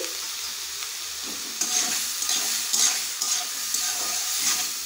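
Sabudana pulao with salt frying in a pan, a steady close sizzle with a soft hiss and scraping stirs coming in short bursts.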